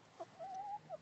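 A silver lace Wyandotte hen clucking softly nearby, a short sequence of quiet chirpy clucks with one drawn-out warble in the middle.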